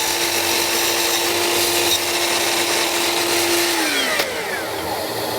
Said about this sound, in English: so my blade will be able to cut through this entire rabbet